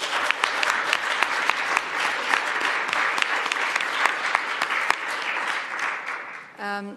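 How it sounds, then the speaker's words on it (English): A sustained round of audience applause at a freight transport and logistics conference, steady clapping from many hands that fades out toward the end before a short tone. "I would like the audience to a big applause for the speakers again."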